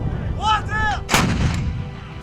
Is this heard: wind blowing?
no